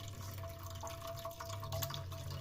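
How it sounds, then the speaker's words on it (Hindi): Water is poured off cooked goat trotters (paya) through a strainer, making a steady splashing, trickling rush of liquid that runs throughout at a moderate level. "हम इसको छान लेंगे पानी को।"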